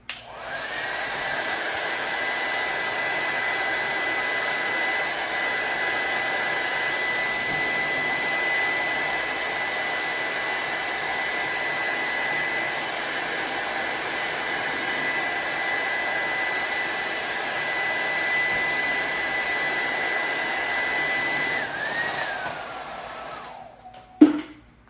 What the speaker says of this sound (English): Now it says to hair dry it for 20 seconds to activate the glue.